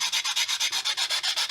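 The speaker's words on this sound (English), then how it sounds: "I'm going to sand these faces just slightly" The faces of a handmade wooden box are sanded by hand in quick, even back-and-forth strokes, about a dozen rasping rubs in a steady rhythm, close and fairly loud with no talking.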